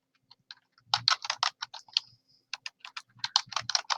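Fingers type on a computer keyboard in quick, irregular bursts of sharp, close key clicks, with brief pauses between runs and no voices.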